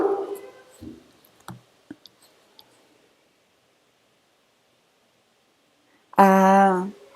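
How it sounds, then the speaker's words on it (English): A dog gives a single loud, drawn-out bark close by near the end, after a stretch of quiet with brief speech and a few soft clicks and rustles. "Stop barking."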